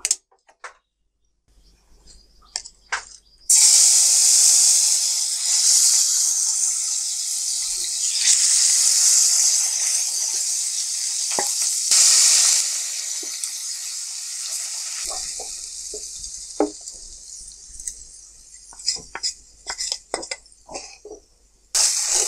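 Soft fish frying with spices, a loud hissing sizzle that rises after a quiet start and runs for several seconds, then fades into scattered clinks and utensil taps.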